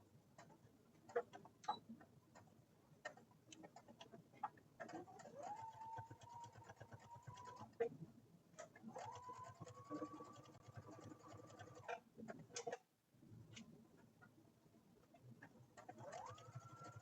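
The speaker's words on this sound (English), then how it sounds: "Sew from line to line." Domestic sewing machine stitching a quilted fabric placemat panel along a drawn quarter-inch line, running in steady bursts with short pauses, a soft whirring hum over quiet ticking clicks, close by.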